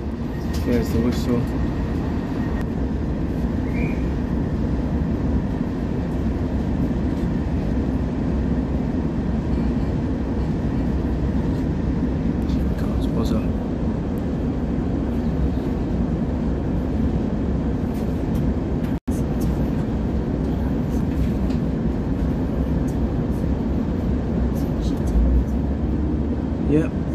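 A CrossCountry Class 170 diesel unit pulls out of Nottingham, heard from inside the carriage. A steady low engine and rolling rumble drones on throughout, with faint rattles and brief knocks over it.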